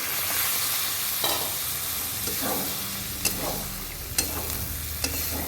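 Peas for ghugni go into a hot pan and are stirred. There is a steady sizzle, with sharp spoon scrapes and clacks against the pan at irregular intervals and no voices.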